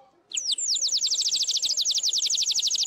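A handmade water-filled bird whistle blown loudly up close, giving a rapid, continuous warbling trill like a chirping songbird, with faint voices at the very start.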